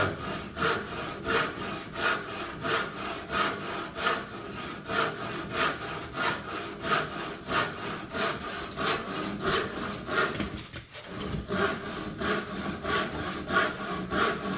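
A hand saw cuts through wood in steady, rhythmic back-and-forth strokes, each push a rasping burst, close and fairly loud, with a brief pause near the end before the strokes resume.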